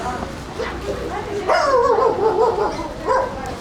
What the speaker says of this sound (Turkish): Köpekler var.